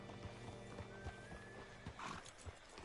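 Horse hooves clip-clopping in Red Dead Redemption 2, a steady walking rhythm of soft thuds close by, with faint game ambience behind.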